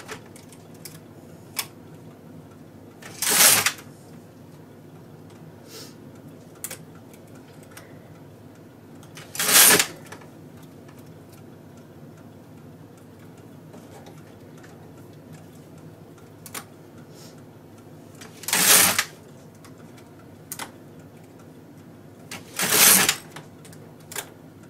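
A knitting machine carriage is pushed across the needle bed while knitting an afghan, producing four separate loud rasping sweeps a few seconds apart, with small clicks and ticks from the machine between them.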